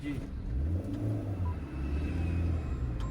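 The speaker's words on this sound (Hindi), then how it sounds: "जैसे गाड़ी गियर में एक्टिव हो गई, ये देखो वाइब्रेट करने लगी" A car's engine rumbles low and steadily as it engages gear on half clutch in city driving, a close, continuous vibrating drone with slight swells.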